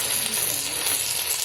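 Masala spices fry in a pan with a constant, close hiss and crackle that runs without pause.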